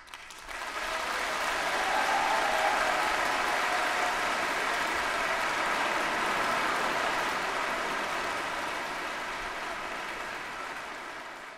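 A concert hall audience at the Kennedy Center gives sustained, dense applause for the conductor during a 2006 solo vocal concert. The loud, steady clapping sounds like rain and holds for about ten seconds before easing slightly.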